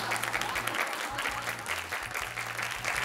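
Audience applause in a Bulgarian television talk-show studio, a dense, steady wash of many clapping hands throughout, fairly loud and close, with a low rhythmic music bed running underneath.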